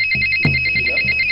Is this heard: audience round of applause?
no